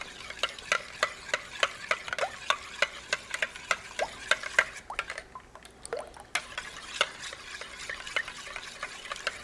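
Coconut chocolate pudding being stirred in a pot, a regular series of soft wet scraping strokes with faint bubbling, close and quiet with no talk.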